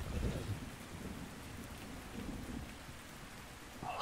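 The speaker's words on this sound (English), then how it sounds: "Just, like, everything about the rain is so much more enjoyable in the new game." Steady rain hisses through the ARK Survival Ascended game world during a thunderstorm, with a low rumble of thunder in the first moments, all at moderate volume.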